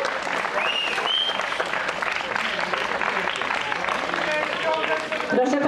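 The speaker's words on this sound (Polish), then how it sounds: "No to brawa!" Steady, dense applause from an outdoor audience at a park concert in Warsaw's Praski Park, crowd clapping continuously at full strength with voices mixed in, tapering slightly near the end.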